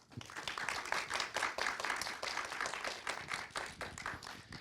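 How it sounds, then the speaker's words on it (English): Attendees at the SA Developer Showcase give the presenters a round of applause, a dense, fairly quiet patter of many hands clapping steadily throughout, without any voices over it. "please, everyone, give them a round of applause"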